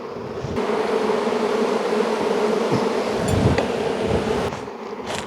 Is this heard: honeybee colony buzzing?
yes